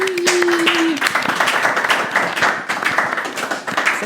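An audience claps loudly and steadily for a hair salon owner, a dense burst of applause close at hand, with a brief whistle at the start and voices mixed in.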